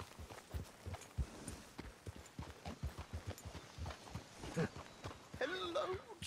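Horse hooves clip-clop in Red Dead Redemption 2, a steady rhythmic walking gait of many soft thuds, with game voices talking over them.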